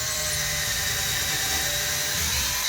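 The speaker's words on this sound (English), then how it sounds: "lining it up in the hole, and drilling my pilot hole." A high-pitched power drill with a small bit whines steadily at close range, drilling a pilot hole for a closet organizing system, running continuously for a few seconds before stopping abruptly.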